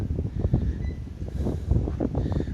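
A gust of wind blows outdoors as a dense, rumbling roar of buffeting noise that stays loud and unbroken for a couple of seconds, with no voices over it.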